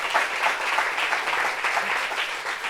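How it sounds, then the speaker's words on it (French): A studio audience on a French talk show claps in sustained, even applause for nearly three seconds, dense and fairly close with no distinct voices. "Applaudissements pour Brésil,"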